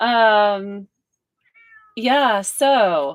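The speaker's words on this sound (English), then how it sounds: "I don't know if you can hear a kitty outside." A cat outdoors meows loudly and close by, one long meow, then after a pause two more drawn-out meows in quick succession.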